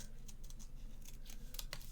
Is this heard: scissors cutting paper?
yes